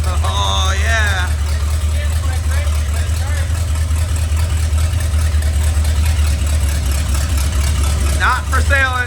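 A C30 car engine runs with a low, steady rumble as the car moves under its own power, and brief voices come in at the start and near the end.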